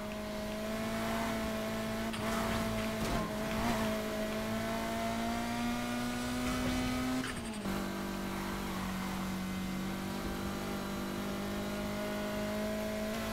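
Racing car in Need for Speed Heat, a steady loud engine drone that holds its pitch and climbs slowly, briefly drops near the middle as if shifting gear, then carries on at a slightly lower tone.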